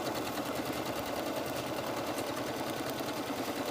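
A sewing machine stitches a blouse sleeve seam in a fast, steady, even whir of rapid needle strokes, close and continuous with no talking.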